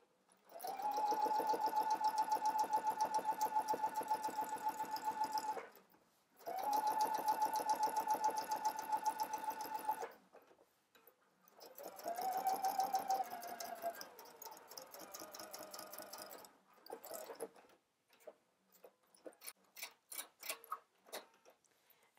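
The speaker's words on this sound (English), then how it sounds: "The pocket bag has now been understitched." Sewing machine understitching a pocket seam in several long steady whirring runs with short pauses between, followed by a series of quicker, shorter bursts and ticks, close up and uninterrupted by talk.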